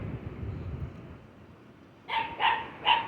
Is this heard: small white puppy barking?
yes